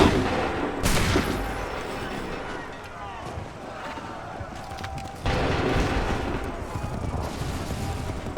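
Musket volley in the video game Assassin's Creed 3: loud crackling bursts of massed gunfire that fade into a rumbling battle din, then another burst, and a shouted command comes in between.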